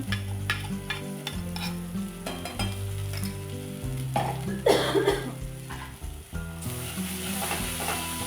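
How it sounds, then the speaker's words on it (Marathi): Ground spice paste, or vatan, being sautéed in oil in a pan, a constant close sizzle with stirring scrapes and spoon taps against the metal. "वाटण घालून ते चांगलं आपल्याला परतून घ्यायचं आहे दोन ते तीन मिनिटं तेल सुटेपर्यंत परतून घेऊया"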